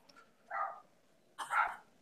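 A dog barks twice, a short bark and then a louder one a moment later, heard at moderate distance in a quiet room.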